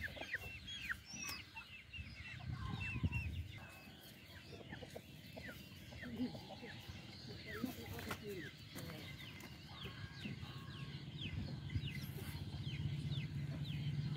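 A laying hen among backyard country chickens clucks repeatedly, with other birds calling around it and someone talking over the steady outdoor bird chatter.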